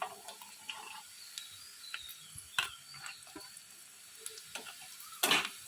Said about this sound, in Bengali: এটা আমার হাই ফ্লেমে মোটামুটি ভাজা ভাজা হয়ে গেছে